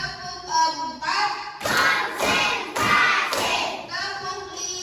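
Children in a classroom do the rhythmic Indonesian 'tepuk fokus' clapping chant, sharp claps in short groups mixed with their voices chanting along, close and fairly loud.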